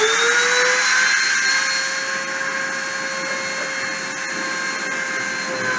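A high-speed CNC spindle whines steadily at around 30,000 RPM, a loud sustained tonal hum that holds its pitch throughout with no speech.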